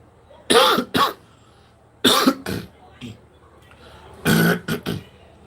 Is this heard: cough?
yes